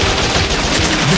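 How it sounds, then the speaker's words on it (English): Rapid machine gun fire from the action video game Bot Vice, a dense, continuous loud burst of shots with no pauses, alone without talk. "Machine gun!"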